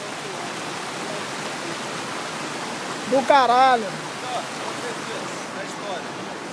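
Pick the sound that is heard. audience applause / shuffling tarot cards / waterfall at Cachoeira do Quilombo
waterfall at Cachoeira do Quilombo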